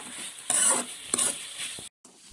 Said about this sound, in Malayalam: അതുകൊണ്ട് 1 മിനിറ്റ് ആകുമ്പോൾ തന്നെ ഒന്ന് മൂടിയൊക്കെ തുറന്ന് അതുപോലെ നന്നായിട്ടൊന്ന് ഇളക്കി വെക്കുക